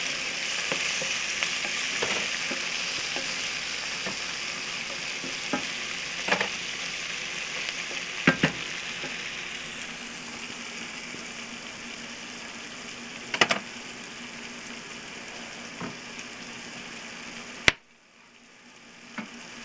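Onions sizzle and fry steadily in a skillet while being stirred, with occasional spoon scrapes and clicks over a continuous crackle; no talking.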